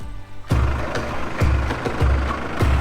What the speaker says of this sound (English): dragging this thing with the tractor.